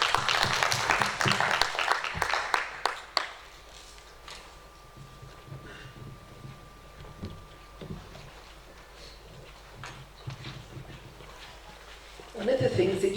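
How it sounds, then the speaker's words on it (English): Workshop audience clapping at a regional academic gathering in Africa, a brief burst of applause at the start that fades out within a few seconds, followed by a quiet room with scattered small noises and voices. "Can we give a round of applause?"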